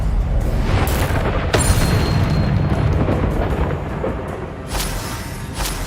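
A blasting Confringo spell from Hogwarts Legacy erupts in rumbling, booming explosions that roll on continuously, with a second burst swelling near the end.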